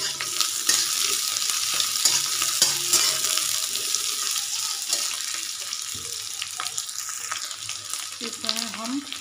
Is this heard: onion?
yes